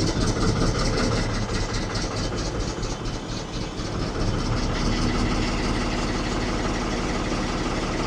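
The diesel engine of a 1975 Ford 550 backhoe runs on a cold day with throttle applied, a loud, close, steady rumbling drone that dips briefly and then holds firm, with no talking.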